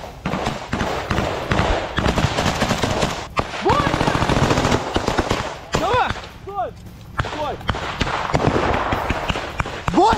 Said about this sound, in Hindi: इसमें यूक्रेन की स्पेशल फोर्स मशीन गन से गोलियां चलाते हुए आपको दिखाई दे रही होंगी